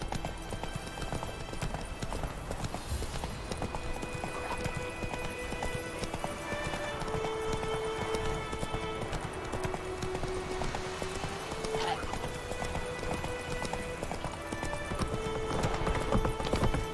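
The horse Roach gallops in The Witcher 3, with a steady run of close hoof clip-clops over continuous outdoor game ambience and faint background tones.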